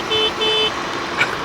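A car horn gives two short, clear toots over steady road and engine noise, with a brief faint third tone near the end.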